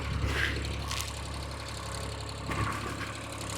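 A tractor engine idles steadily at a moderate distance, a constant low rumbling drone with a faint clatter on top.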